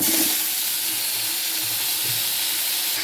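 Pumpkin pieces fry in hot oil in a pan, giving a loud, continuous close-up sizzle that holds steady throughout, with no talking.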